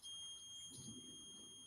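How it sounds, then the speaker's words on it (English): A continuity tester on a cable gives a sustained, steady electronic beep confirming an unbroken connection, fairly quiet and uninterrupted, with no speech. "that beep that says there's a clean signal through"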